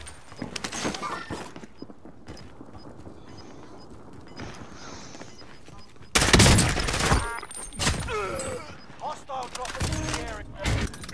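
Gunfire in Call of Duty Warzone on Rebirth Island, with loud bursts of shots and clattering game sounds breaking in midway over a quieter game ambience, while players talk throughout.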